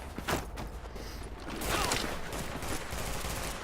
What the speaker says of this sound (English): But my sniper rifle, it tears people up, as you just seen.